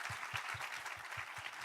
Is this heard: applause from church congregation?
yes